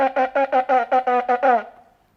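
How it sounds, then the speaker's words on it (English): Shofar blown in a series of about nine quick, staccato teruah blasts, close and loud, with the last note held slightly longer before fading out. "So, actually I have a shofar here, maybe I'll just blow it here."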